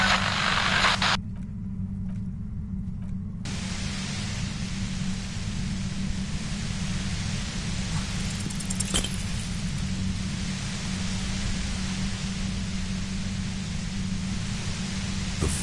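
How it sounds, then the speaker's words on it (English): Violet white noise near a compressor in Disco Elysium forms a constant, overwhelming broadband hiss over a low droning hum, loud and unbroken throughout. "The violet white noise becomes even more overwhelming closer to the compressor."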